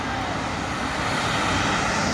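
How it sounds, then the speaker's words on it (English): A rescue airplane engine flying over people stranded in Texas gives a steady, loud, broadband drone that fills the whole stretch without a break. "Look at our rescue plane."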